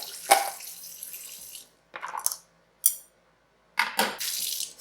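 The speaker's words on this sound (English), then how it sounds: "also rinse out the salt from the bitter melon." Bitter melon rinsed under a running kitchen tap, water splashing and rushing in several bursts, with short pauses where the flow is interrupted, close and clear.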